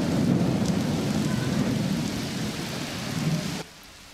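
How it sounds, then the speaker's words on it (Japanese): Heavy rain pours steadily in front of Fukushima Station in the afternoon, a dense roar with low rumbling thunder mixed in, then cuts off abruptly near the end, leaving quiet. "先ほどから激しい雨が降ってきました。 時折雷の音も聞こえてきます。"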